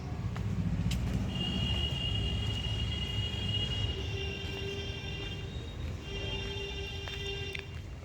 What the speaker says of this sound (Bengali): এই যে উপরটা দেখেন মেট্রো যায়।